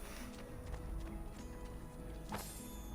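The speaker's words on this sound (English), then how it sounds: "There's a horse directly outside the gate." A horse in Assassin's Creed II gives a few soft clip-clop hoofbeats and shuffles faintly over a quiet game ambience.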